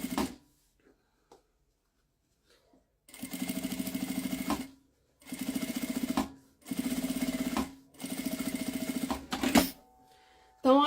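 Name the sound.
sewing machine stitching fabric and lining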